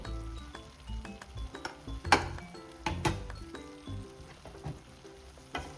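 Snake gourd kootu in a pan gets stirred with a spoon, giving soft scraping and a few sharp clinks against the metal over a faint sizzle, close by and quiet, with no voices.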